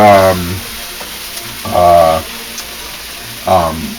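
Short grain rice is stirred and browned in a pan, with a steady low sizzle running underneath while voices talk over it in bursts.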